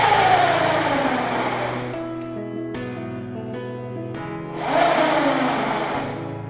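The electric motor of an Apollo RFN ARES electric dirt bike spins up during a power test, giving a rising then falling whine, a steadier hum in the middle and a second whining surge, all close and without talk.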